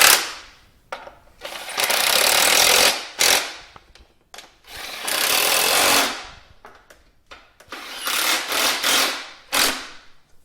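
A power tool tightens ignition coil bolts on a Dodge Neon in several loud, close whirring bursts of a second or two each, separated by short silences, with no talk.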